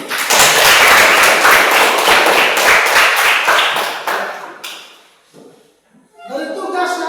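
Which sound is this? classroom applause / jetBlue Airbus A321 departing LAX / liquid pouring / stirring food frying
classroom applause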